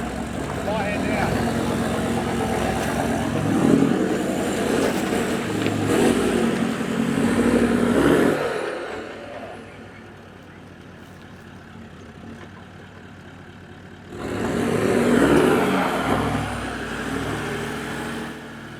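A 4x4 off-road vehicle's engine revs and labours as it works through muddy ruts on wet terrain, a steady loud drone that drops to a quieter idle before surging again, with people talking over it.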